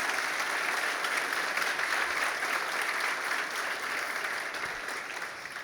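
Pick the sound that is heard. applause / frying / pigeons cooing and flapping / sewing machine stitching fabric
applause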